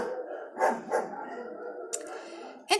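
A dog barks a few sharp times, with two close barks near the start and one more near the end over a low background murmur.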